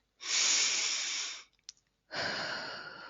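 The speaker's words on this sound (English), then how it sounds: "take a deep breath in" A person takes a long, deep breath in, close and clear, followed by a short pause with a small catch and then a second long airy breath.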